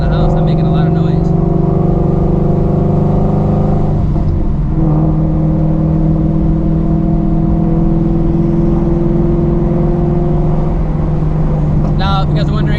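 Supercharged Shelby GT350 with long tube headers and an X pipe rumbles loud and close, a steady throbbing drone with supercharger whine and a brief throttle swell, while a voice talks over it.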